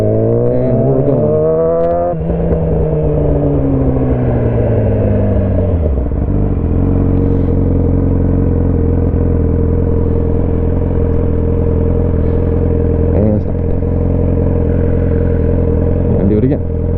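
Motorcycle pulling away as the rider opens the throttle and lets out the clutch, the engine note rising and then settling into a steady, loud rumble close by while a person talks over it.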